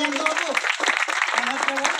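An audience claps at a tree-planting ceremony for World Environment Day in Sonarpur, with steady, dense applause that runs through the whole moment while a voice talks over it.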